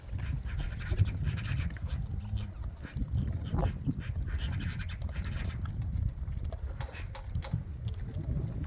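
Forest dogs eating food while panting, with steady close breathy panting mixed with chewing and shuffling noises throughout.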